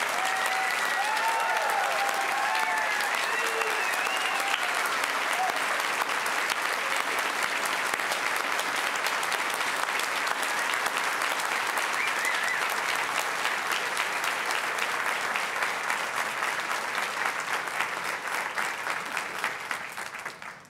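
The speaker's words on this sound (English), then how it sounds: "give them the round of applause they all deserve" A large school audience at a class night ceremony applauds award recipients in a long, dense, steady roar of clapping with a few voices and whoops early on, sustained for about twenty seconds before tapering off.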